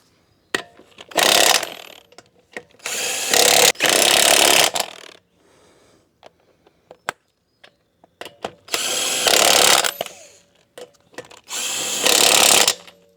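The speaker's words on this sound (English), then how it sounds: "Now we're going to tighten the wheel back down in a star pattern" Power tool tightening car wheel lug nuts in a star pattern during a front brake job, four loud sustained bursts of whirring rattle separated by quiet pauses and small clicks, close up.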